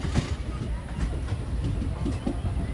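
Sheshadri Express rolls past a railway crossing with a steady close rumble and faint rhythmic wheel clatter, and a voice talks over it.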